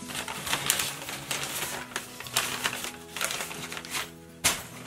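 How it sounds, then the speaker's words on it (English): Packaging paper rustles and crinkles inside a Hot Topic parcel, with irregular crackling bursts and handling noises close by and no talk. "There's packaging paper in here."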